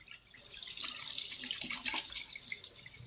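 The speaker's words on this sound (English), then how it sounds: "And then fill the basin again." Tap water runs into a basin while a synthetic wig is being washed, a close, steady splashing rush with bright, bubbling texture and no voices.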